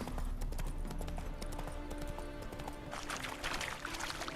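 Horse hooves clip-clopping steadily in Witcher 3 Hearts of Stone, a continuous rhythmic trot over background game music, with a brighter burst of hoof noise near the end.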